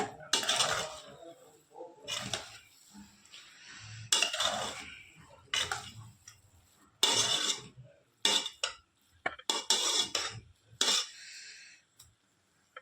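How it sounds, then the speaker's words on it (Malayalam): A spoon stirs a grated coconut mixture in a cooking pan, making repeated bursts of scraping, clinking metal, each lasting about a second with short pauses between, close and fairly clear. "ഇനി നമുക്ക് നല്ലപോലെ ഒന്ന് ഇളക്കി കൊടുക്കാം."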